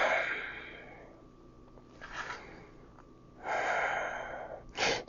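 Deep breathing during a yoga stretch, with a long airy exhale, a shorter breath, then another drawn-out breath and a quick sharp sniff, close and clear with no talk.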